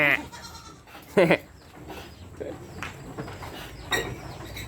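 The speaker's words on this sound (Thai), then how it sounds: "นี่นะครับพี่น้องแพะน้อย" Young goat kids bleat in a pen on a goat farm, several short calls at intervals, one loud and near and others fainter.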